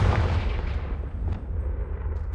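Confringo blast spell going off in Hogwarts Legacy, a loud deep boom that rumbles and decays with a few crackling tails, no talk.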